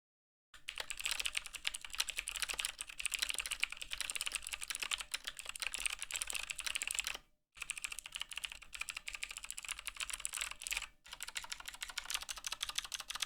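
Rapid, continuous clatter of typing on a cheap Walmart computer keyboard, close and clear, with two brief pauses and no talking.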